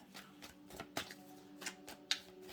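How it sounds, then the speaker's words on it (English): Tarot cards being shuffled during a career reading, giving a quiet run of soft riffling and snapping card sounds with a few sharper flicks, close and faint, with no talk. "All right, one more shuffle there."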